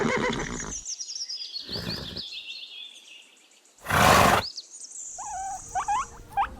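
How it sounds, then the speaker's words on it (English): A pony gives a short whinny amid a run of varied farm animal calls, a loud burst standing out near the middle alongside other brief animal sounds. "pony,"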